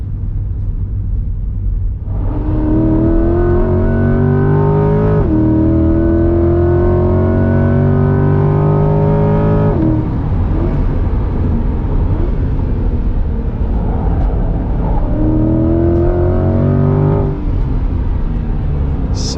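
A 2021 Chevrolet C8 Corvette Z51 accelerates hard on a track with traction control off, engine rising through several gear pulls, each climbing tone broken by a brief dip at the shift, loud and close.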